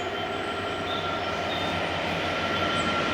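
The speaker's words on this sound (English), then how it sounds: "Sounds like a goods train to me, that." A goods train rumbles steadily past near the Chesterfield Canal towpath by the Staveley ironworks, a continuous loud roar of rolling wagons with faint wheel squeal, heard alone with no voices.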